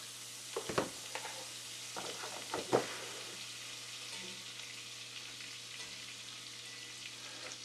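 About three tablespoons of butter melt in a pot over medium-high heat, giving a soft, steady sizzle after a few light clinks of utensil on metal.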